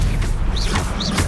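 Stupefy spell cast in Hogwarts Legacy: whooshing swishes and thudding hits over continuous game action, with two bright rising-falling tonal sweeps ringing out close together.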